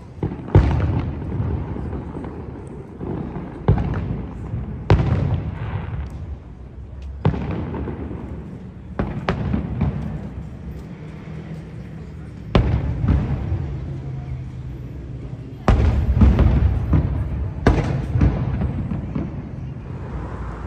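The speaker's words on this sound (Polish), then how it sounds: "Normalnie walą tymi petardami" Firecrackers and fireworks going off on New Year's Eve in Belarus, a series of loud sharp bangs and pops at irregular intervals, some near and some farther off, with crackling between bursts and no talk.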